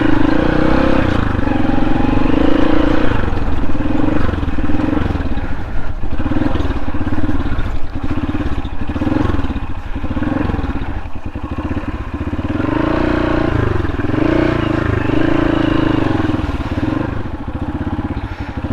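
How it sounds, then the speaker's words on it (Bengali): A motorcycle on a rough, muddy hill trail on the way from Rangamati to Ruposhi waterfall runs with a loud, steady engine drone and rattling clatter close by for the whole stretch. "না না, বাইক নিয়েই যাব।"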